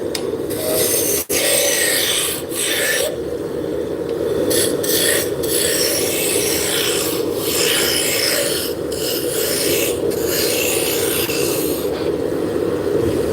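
Wood turning on a lathe with a roughing gouge, bringing a spindle down to diameter: a steady, loud rasping scrape runs continuously throughout, with brief dips as the tool lifts, no voices.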